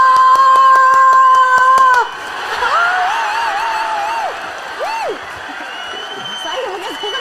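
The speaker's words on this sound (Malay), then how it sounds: "Tepukan untuk Aide Iskandar" Studio audience clapping, whooping and cheering on a talk show as national football icon Aide Iskandar is welcomed: a lively burst of applause and shouts for about two seconds, then excited voices and calls continue at a lower level.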